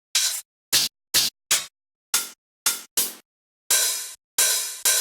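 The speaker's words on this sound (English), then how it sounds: "So again, it's that open hi-hat like I showed you before." Open hi-hat hits in a dance loop, bright hissing bursts cut off sharply, a series of spaced strikes with some longer sustained ones near the end, alone and fairly loud.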